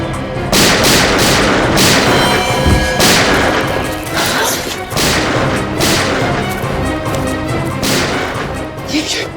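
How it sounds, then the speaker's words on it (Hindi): Gunshots crack in a loud series of sharp bursts, roughly every second or two, with echoing tails in a crime-drama scene. "ये गोलियों की आवाज कैसी?"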